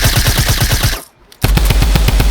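Drum gun firing in Fortnite, a loud close burst of rapid automatic shots that breaks off briefly, then resumes at the same fast rhythm.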